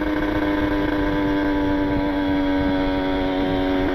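A Kawasaki Ninja RR two-stroke engine on a wet setting runs steadily at a constant, close, buzzing drone with no change in pitch.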